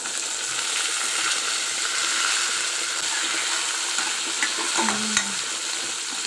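Ridge gourd peel sizzles steadily in a hot pan, a continuous frying hiss with a brief stir or scrape near the end.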